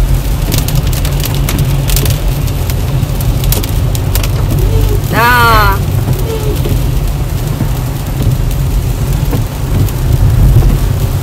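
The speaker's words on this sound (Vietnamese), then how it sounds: "mưa to lắm. Để em quay cảnh trời mưa to cho quý vị xem nha." Heavy morning rain pours onto a busy city street, a dense, loud hiss that never lets up. A passing vehicle horn sounds briefly partway through, and a voice speaks a single word.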